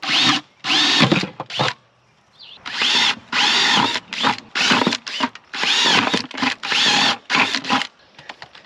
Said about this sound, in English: we're going to drill into it, and I'm going to drill 5 holes in the bottom and then a few holes on the side